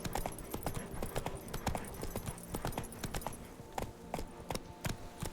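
Hoofbeats of Roach, the horse in The Witcher 3 game, galloping in a fast steady clip-clop rhythm, close and continuous over an ambient game soundscape with occasional sharper hoof strikes.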